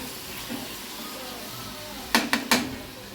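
Fenugreek leaves fry in a pan with turmeric, giving a steady, soft sizzle, followed near the end by three sharp clanks from a stirring spoon against the pan.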